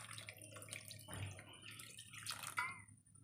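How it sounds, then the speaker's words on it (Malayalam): Water goes into a pan of mango curry, a quiet trickle with a few gentle drips and splashes over a low background hum. "ആവശ്യത്തിന് വെള്ളം ഒഴിച്ച് കൊടുക്കാം"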